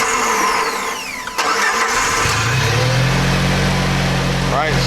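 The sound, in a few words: Jeep Wrangler TJ engine starting up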